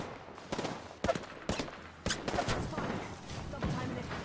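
Gunfire in the battle royale game Apex Legends: several bursts and single shots crack out at mid distance in irregular clusters, with a steady bed of game noise between them and no speech.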